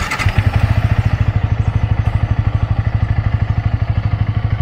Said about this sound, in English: This is the projector, and let's start the engine.